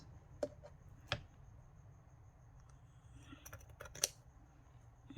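Scissors cut fabric for quilted junk journal ephemera, giving three quiet, sharp snips spread over a few seconds against a low background hum, with faint handling clicks between them.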